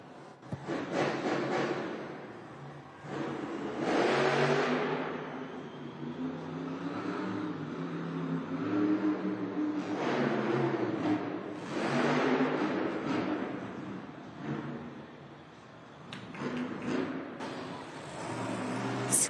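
Monster truck engines roar in an indoor arena during a Monster Jam event, a dense, reverberant rumble swelling and easing in long waves, distant and blended with crowd noise.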